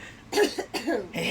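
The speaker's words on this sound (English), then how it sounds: "Here, I'm coughing for you." A person gives a couple of short, harsh coughs up close, with a throat-clearing quality, alone and without talk.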